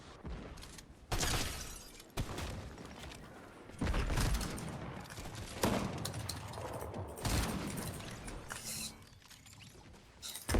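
Grenade explosions and bursts of gunfire from a team shooter video game, loud and dense, with repeated blasts and rattling shots throughout.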